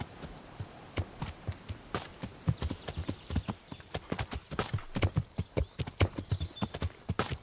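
A horse's hooves clip-clop in the medieval video game Kingdom Come: Deliverance, a quick, regular walking rhythm of crisp, close hoofbeats that repeats steadily for several seconds with no one talking.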